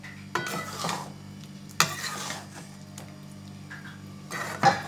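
Pointed gourd korma with ghee is stirred in a pan, with several distinct scraping and clinking strokes of a utensil against the pan separated by quiet gaps and a faint sizzle underneath.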